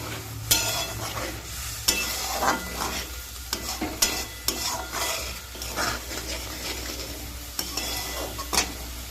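Fresh okra sautéed in masala water in a pan, a continuous bubbling sizzle broken by repeated scraping and knocking spoon strokes against the pan, close and fairly quiet, with no voices.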